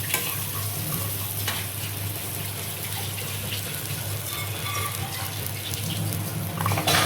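Garlic, nigella seeds and shrimp stir-fried together in a pan while making kochu bata, a constant even sizzle with a low steady hum beneath and faint stirring scrapes, no voices.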